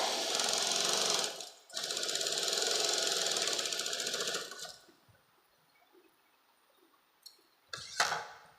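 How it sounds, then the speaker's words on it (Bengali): A sewing machine runs in two long steady stitching runs along a patiala salwar seam, a fast even mechanical whir that stops, followed by a few quiet clicks and a short handling knock. "এই সেলাইটিকে তোমাদের ডবল সেলাই করে নিতে হবে"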